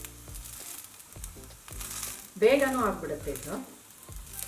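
Food cooking in ghee on a pan over a medium flame for a breakfast dish, a soft steady sizzle under a woman's speech, with brief scraping or pressing sounds from a spatula partway through.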